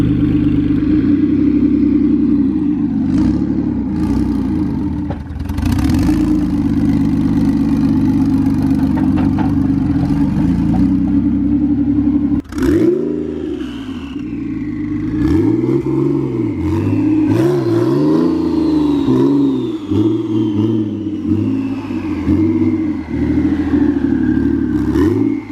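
A forged twin-turbo Z car engine idles with a loud, steady rumble, then blips and revs in rising and falling surges as the car is driven in, close and unaccompanied by talk.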